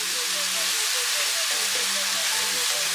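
Pork chops sizzle in a frying pan after brandy goes in, a steady, bright, loud hiss with faint tones running underneath.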